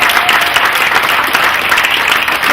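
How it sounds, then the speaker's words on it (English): An audience at a Tea Party rally in Robinson applauds event organizers, a dense, steady wash of clapping from many hands filling the room without a break. "A big round of applause for Tyler Bush and his team."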